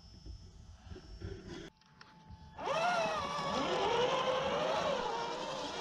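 Ford Bronco engine revving up from an idle hum into a loud, rising and falling drone, heard from inside the moving vehicle, steady and close.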